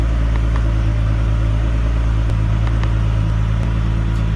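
A car engine idles steadily up close while an OBD2 diagnostic scanner is hooked up, a loud, constant low rumble with small ticks on top and no change in revs.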